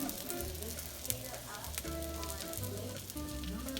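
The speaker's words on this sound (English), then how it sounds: "We can start adding in the little tortitas and we'll leave it to simmer for about 5 to 10 minutes" Chicken tortitas simmering in chile salsa in a pan give a steady, close sizzle throughout, with faint stirring noises and no talk.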